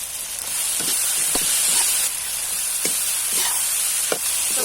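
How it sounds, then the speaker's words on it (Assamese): Tomatoes and taro pieces frying in a pan, a steady close sizzle broken by soft scraping stirs every second or so. "আৰু এনেকৈ বিলাহীখিনি সম্পূৰ্ণ সিজালৈকে ভাজি ল'ম"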